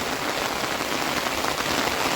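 Steady heavy rain falls through a forest in Hooghly district, a dense continuous hiss of drops pattering on leaves and ground, close and even throughout with no voices.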